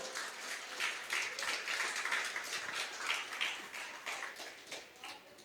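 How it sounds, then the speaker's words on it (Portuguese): A church congregation applauds in a steady, sustained burst of many hands clapping, moderately distant and filling the room, with no speech over it. "Você pode aplaudir o nome do Senhor."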